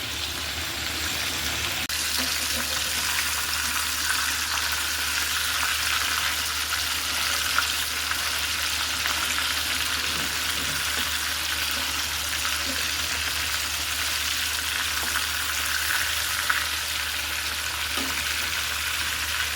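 Pieces of beef fry in hot oil with a steady, dense crackling sizzle that holds at an even, moderate level from start to finish, with occasional small pops.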